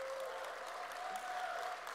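A church congregation at a Sunday service claps in sustained, even applause, with a faint steady tone running beneath the clapping.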